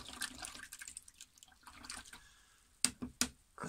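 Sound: washing a watercolour paint brush in water

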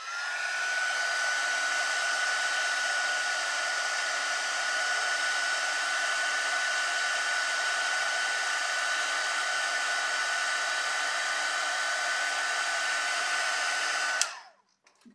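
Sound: heat embossing tool blowing hot air

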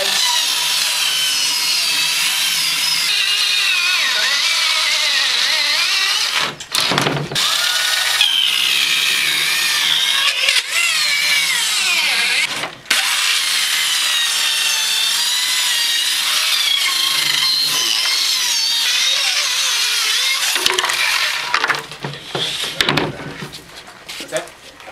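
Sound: power saw cutting wood for a training barricade

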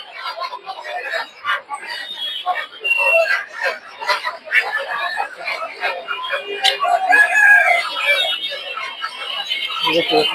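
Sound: tiger chickens at a poultry market

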